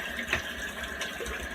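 Tap water running into a bathroom sink as it fills for a shave, a soft steady splashing stream, close and fairly quiet, with no voices.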